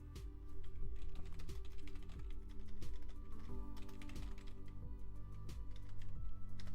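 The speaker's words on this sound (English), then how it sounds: "we're just gonna be typing names in" Names being typed on a computer keyboard, with steady, continuous key clatter close by and a regular low mechanical thump repeating about every second underneath, no voices.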